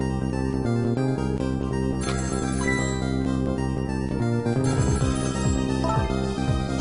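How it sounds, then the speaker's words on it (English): Telephone ringing in the Ghost Trick video game, a steady electronic ring sounding continuously under dense layered game music, with no voices. "The phone is ringing."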